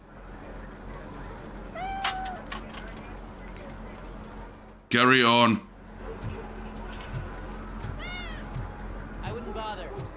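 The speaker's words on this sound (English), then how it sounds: "Hey, look, a cat." A cat meows a few times in RoboCop: Rogue City, moderately close with soft rising-falling calls over game ambience and a voice speaking, interrupted midway by a brief loud burst of another sound.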